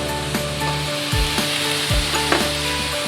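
Squash with turmeric sautés in a pan, giving a loud continuous sizzle close up, with a few scraping stirs of a spatula across the pan every half second or so.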